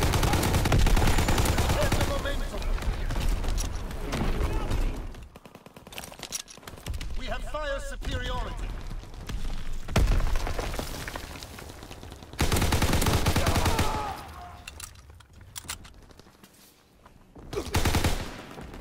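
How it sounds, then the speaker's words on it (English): Artillery blasts and rapid gunfire from Call of Duty WWII fill the scene, dense and loud in long continuous stretches, with a few short lulls and some in-game voices mixed in. "Incoming enemy artillery!"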